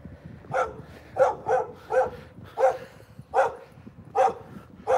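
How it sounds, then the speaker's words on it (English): A dog gives a run of short, evenly spaced whining barks close by, about nine yelps in a rough rhythm, reacting to a person singing. "Dog does not like my singing."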